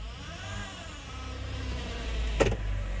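A car with a failing transmission idles as it is shifted into reverse gear, a steady low engine drone with a brief mechanical clunk partway through.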